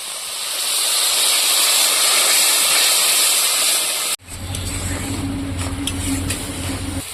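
Water poured onto spice masala frying with salt and turmeric sends up a loud, steady hiss for several seconds, then cuts abruptly to a quieter sizzle over a low rumble.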